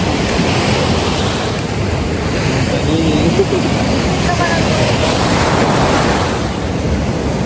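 Sea waves washing onto a sandy beach, a constant broad roar of surf mixed with wind buffeting the microphone, loud and continuous, with faint talk beneath.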